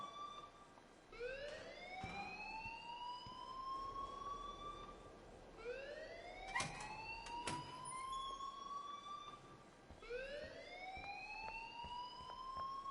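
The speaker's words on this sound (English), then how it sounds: "please turn off that alarm since that's your job" Alarm in the Life is Strange video game, a rising electronic whoop that sweeps upward in repeated cycles about every four seconds, loud and steady with no talking.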